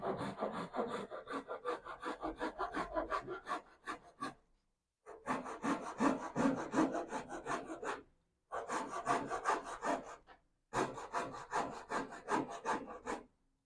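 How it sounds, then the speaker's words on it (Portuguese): A hand saw cuts through soft pine in four bursts of rhythmic back-and-forth rasping strokes, separated by short pauses. The sawing is close and clear, with no talking. "E como a madeira é macia, que é pinus, então dá para cortar aqui de boa."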